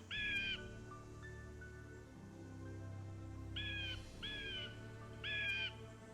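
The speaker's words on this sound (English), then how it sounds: "Oh, I hear blue jay." A blue jay calls in the Nancy Drew game Ghost Dogs of Moon Lake, giving sharp, harsh two-part cries in short bursts at the start and three more later, clear over a steady low ambient hum.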